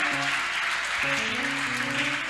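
Audience applause at a panel event on family and society, a dense, steady clapping crowd welcoming a guest, with music playing beneath it.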